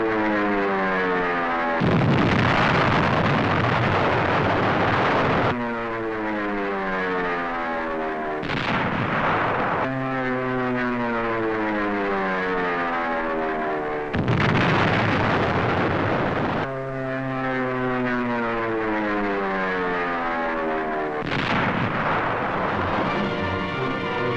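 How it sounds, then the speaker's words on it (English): Navy dive bombers attack Mount Suribachi on Iwo Jima in 1945. Loud, repeated blasts of explosion noise alternate with droning, pitch-sliding aircraft engine tones, all heard through old newsreel-quality sound. "Now Mount Suribachi is smeared by Navy dive bombers."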